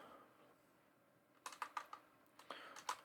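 Bursts of computer keyboard typing start after a quiet second and a half, with clustered clicks and short pauses, fairly soft and close, with no talking.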